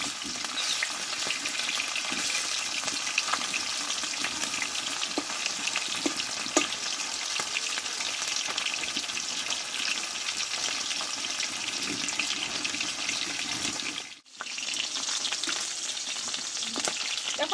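Fish pieces sizzle steadily in hot oil in a home kitchen while being fried for a thin Bengali fish curry, a dense crackling hiss that runs the whole time with a brief dip near the end.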